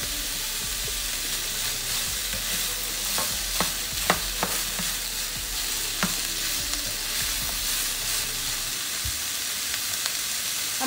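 Shrimp and broccoli stir-frying in a pan, a loud continuous sizzle with scattered clicks and scrapes from stirring throughout.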